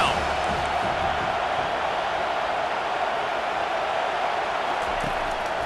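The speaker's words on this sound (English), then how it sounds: "Decibels rising as the crowd gets behind this defense on third down." A football stadium crowd roars steadily as a third-down defensive stand builds, a dense continuous wall of cheering and noise holding loud for the whole stretch.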